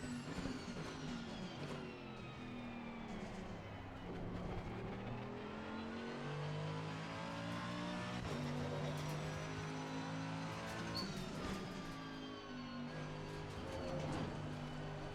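Race car engine in a driving game lap, revving continuously with rising and falling pitch as it accelerates and shifts through gears, loud and close for the whole stretch without talk.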